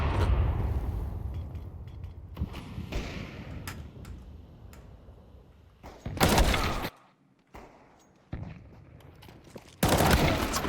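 Two loud bursts of rapid automatic gunfire from Counter-Strike 2 on the Dust2 map, each lasting about a second, break through softer in-game clatter and scattered ticks.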